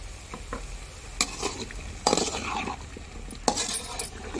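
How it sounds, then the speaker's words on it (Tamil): A spoon stirs and scrapes a sweet mixture in a pan over light sizzling, with intermittent close scraping strokes and occasional clinks against the metal. "கிளறிக்கிட்டே இருக்க வேண்டியதான் விட்டு விட்டு கிளற சும்மா விடாமல்"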